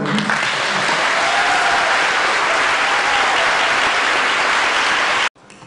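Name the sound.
audience applause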